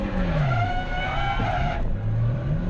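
A race car in a racing video game locks its brakes, giving a loud, close tire squeal over a droning engine note, with a brief pitch drop partway through and no talking.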